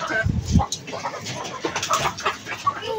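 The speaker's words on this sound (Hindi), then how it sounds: "यहाँ पे मुर्गियाँ बहुत सारी हैं" Chickens clucking around a backyard coop, with a few short, loud clucks close by up front, then softer scattered calls and rustling as a voice talks over them.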